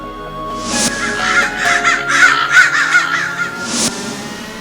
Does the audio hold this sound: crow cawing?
yes